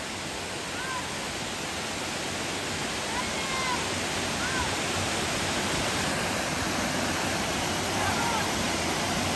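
A waterfall roars as a dense, steady rush of water, close and loud throughout, masking other sounds on a hiking trail in Manchester, Tennessee.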